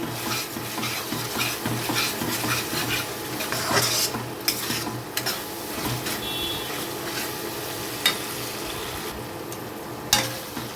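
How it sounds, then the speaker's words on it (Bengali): Spices and tomato ketchup stirred in a pan: a steady close scraping of a spoon against the pan over a soft continuous sizzle, with a few sharper clinks of utensil on metal, no voices. "এখন টমেটো কেচাপটাকে খুব ভালো করে মশলার সাথে একটু মিশিয়ে নেব"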